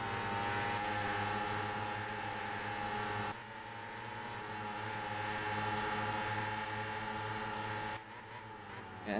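Formula Micro race cars running on track, a steady droning engine whine that holds for several seconds with slight pitch shifts, fairly close and continuous, with no voices.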